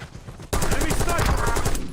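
Incoming gunfire in Call of Duty Warzone, with a sudden loud burst of rapid shots starting after a quiet moment and running continuously to the end.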